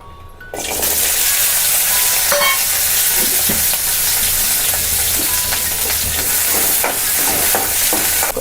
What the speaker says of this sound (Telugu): ఇదే కడాయిలో కొద్దిగా ఆయిల్ వేసుకొని ఇప్పుడు పచ్చిమిర్చి వేయించుకోవాలి